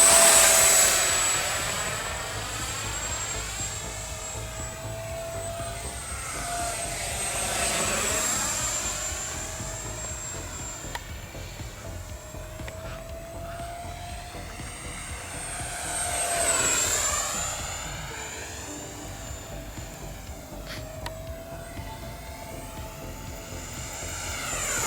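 FMS J-10 64mm electric ducted-fan RC jet, damaged and flying, with a steady high-pitched whine that swells and fades as it passes overhead repeatedly, fairly distant, with no talking.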